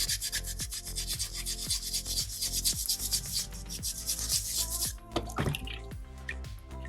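A soapstone bison carving is scratched and shaped by hand, giving steady, rhythmic rasping strokes close up. The scrapes repeat about every half second, then turn to a few sharper, irregular scratches near the end, with no talking.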